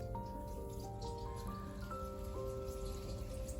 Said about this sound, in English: You already see the dripping.